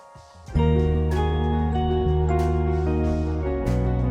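A notification bell chime rings out loud and clear, sustained bright tones that swell in and shift pitch twice across a few seconds, with no voices.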